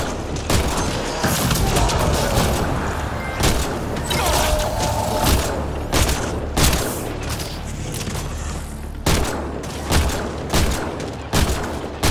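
Rapid gunfire in Mass Effect Andromeda, a long run of sharp, close shots at an uneven rhythm over a constant low rumble of combat ambience, with brief pauses between bursts.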